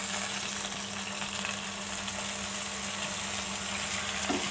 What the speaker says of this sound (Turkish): Pirinçle birlikte biraz daha kavurmaya devam edeceğiz